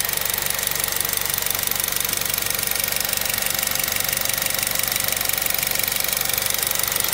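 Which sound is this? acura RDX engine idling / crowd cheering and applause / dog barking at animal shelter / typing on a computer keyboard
acura RDX engine idling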